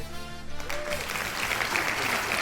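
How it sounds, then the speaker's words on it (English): Brief applause from a small group of clapping people rises after a moment of voices and carries on dense and steady, fairly close. "Round of applause."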